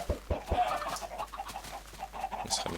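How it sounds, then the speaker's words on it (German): Chickens on a Minecraft farm give short, repeated clucks with a few pulses near the start and more scattered along the way, at moderate loudness, with no speech. "Jetzt kommen schon wieder Hühner raus."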